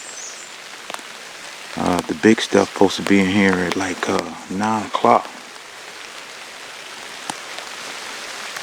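Light rain patters steadily and faintly through Georgia woods during a turkey hunt, a soft continuous hiss with someone speaking quietly over it for a few seconds.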